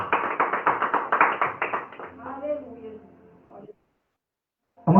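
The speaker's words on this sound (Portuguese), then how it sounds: "bater uma salva de palmas para Jesus." A church congregation claps in a rhythmic burst of palms that thins out after about two seconds, followed by near silence and then a sudden loud thump at the end.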